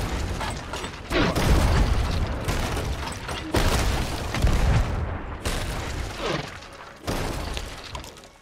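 Ship cannons firing in a pirate video game, several heavy booming blasts with crashing impacts and creaking, spaced a second or two apart across the stretch.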